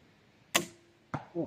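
Crossbow shooting a needle-type arrow outdoors: a sharp snap of release followed by a brief ringing tone, then another quick crack and a short thud.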